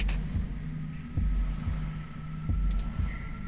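A video game heartbeat effect, a slow, steady throbbing pulse of low thumps over a faint hum, heard alone without speech.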